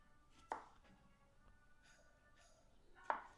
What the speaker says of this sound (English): we're gonna chop this up